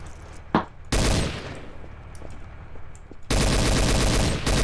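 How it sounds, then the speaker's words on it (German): Gunfire in the shooter game Trouble in Terrorist Town, with a single sharp shot followed by loud sustained bursts of rapid automatic fire, then a quieter stretch before another heavy burst of shooting. "Ey, da schießt einer."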